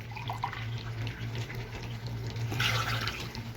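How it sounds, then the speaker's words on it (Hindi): Water is measured and poured into a pan to make sugar syrup for suji halwa, a soft continuous trickle and splash in a kitchen, with a low steady hum beneath and a fuller gush near the end. "3 कप इसके अंदर मैं नाप कर पानी डालूंगी"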